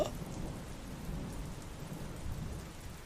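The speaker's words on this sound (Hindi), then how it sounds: "ऊपर से ही बारिशवा अलग ही दिमाग ख़राब कर रहा है।" Steady rain falling with low thunder rumbling underneath, a continuous dense hiss at moderate level throughout, used as atmosphere in a Hindi horror story about a night rickshaw, no voices.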